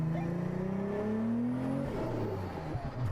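A 3000-horsepower SUV accelerates hard in a drag race against a Ferrari SF90, its engine note climbing steadily in loud, continuous rising harmonics before the tone breaks into rougher rumble near the end.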